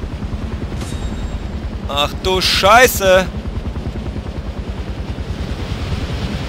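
In the video game Far Cry 4, a helicopter's rotor thumps in a steady, rapid pulse throughout, while someone briefly shouts an excited exclamation partway through.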